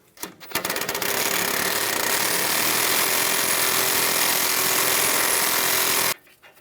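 Power tool running in one loud, continuous buzzing burst of about five seconds, taking the nut off a front sway bar link on a 2011-2019 Ford Explorer, preceded by a few quick clicks and then sudden silence.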